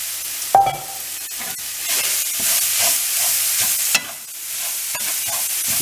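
Carrots dropped into a hot pan set off a loud, steady sizzle with crackling spatter and occasional stirring scrapes.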